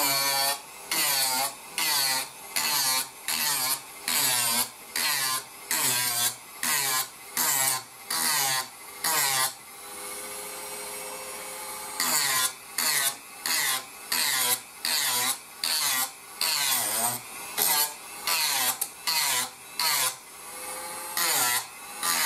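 Rasping strokes roughen a surface during repair of an early Zenith radio, a long run of rhythmic back-and-forth scraping bursts, close and steady, with one brief pause midway and no talking.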